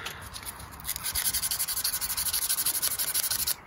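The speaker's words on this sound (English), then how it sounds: "final sand, make sure it's nice and clean, again with 280" Hand sanding of wood with 280 grit sandpaper, a rapid run of even back-and-forth rubbing strokes, close and steady, heard alone with no voices.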